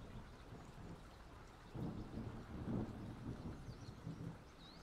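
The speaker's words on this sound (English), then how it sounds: "It's raining. Click the weather button." Rain falling with low rumbling thunder in the farming video game Professional Farmer: Cattle and Crops, a faint steady patter beneath soft rolling rumbles that swell midway.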